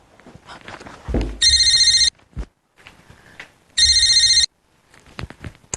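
A telephone rings twice, two loud electronic trills separated by a pause, with light footsteps and small handling noises in between, in a scene from the Hindi comedy serial Hari Mirchi Lal Mirchi.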